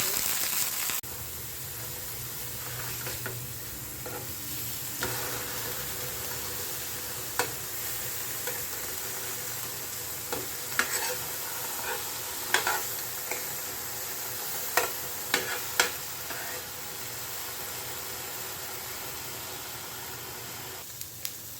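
Paneer shallow-frying in a little ghee gives a steady, soft sizzle throughout, with occasional sharp clicks and taps of a utensil against the pan; no one talks.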